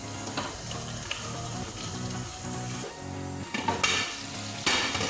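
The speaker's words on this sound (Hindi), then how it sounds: "अभी हम इसमें चिकन शामिल करेंगे और 2 मिनट तक हम लोग चिकन की भुनाई करेंगे अच्छे से" Chicken fries in biryani masala in a pan, with a steady, close sizzle and the scrape of stirring running throughout and sharper clatters near the end.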